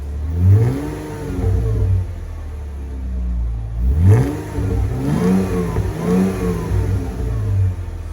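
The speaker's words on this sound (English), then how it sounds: "I opted for the Red Rock 4x4 dual exhaust in painted black." A lifted 2015 Jeep Wrangler JK with a Red Rock 4x4 dual exhaust idles with a deep note, then revs sharply several times, each burst rising and falling back to a low rumble.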